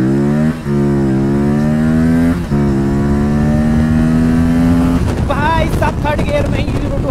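An Aprilia RS 457 sport motorcycle accelerates at full throttle from 0 to 100 in sport mode, its engine note climbing loudly through rising pitches with a brief gear shift, then settling into rushing wind and engine roar.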